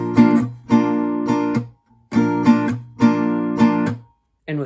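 Acoustic guitar strummed in a chord pattern where some strums are muted and others accented, played in short bursts separated by brief pauses, close and clear with no talking.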